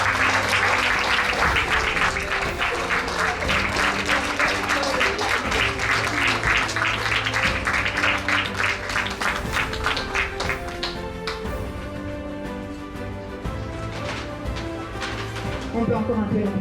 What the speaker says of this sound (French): On peut encore un peu l'applaudir.